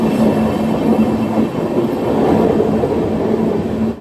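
The Himsagar Express runs toward a tunnel on the single line from Jammu to Katra, a loud steady rumble of wheels and carriage noise heard from aboard, continuous throughout without speech.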